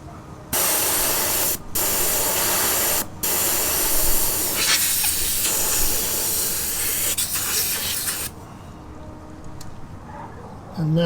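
Steady air hissing out of a brass adjustable tire deflator on an overlanding vehicle tire set around 20 psi, loud and continuous with two brief cutoffs early, then fading to a quieter hiss.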